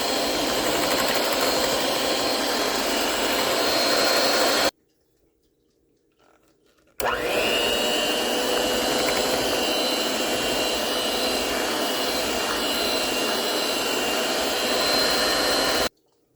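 An electric mixer whirs steadily through banana bread batter. The loud, even drone cuts out for about two seconds, then starts again with a rising whine and keeps going at the same level before stopping.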